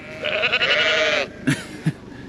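A sheep on an Australian farm lets out a long, wavering bleat close by, followed by a couple of short knocks or thuds.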